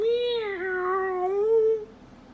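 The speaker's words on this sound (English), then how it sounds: "A deafening meow echoed in the clearing, making the two friends jump." A loud cartoon-style cat meow sound effect in a forest clearing: one long, drawn-out yowl that bends in pitch, heard alone and ending abruptly after about two seconds.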